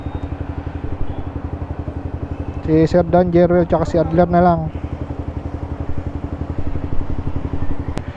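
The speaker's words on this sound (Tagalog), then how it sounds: "Siyam na motor na." Nine motorcycles sit idling together, their engines making a steady rapid pulsing throb throughout while someone talks over them in the middle.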